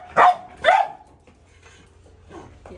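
One of two mixed-breed street dogs barks twice sharply up close, followed by quieter yips and whimpers.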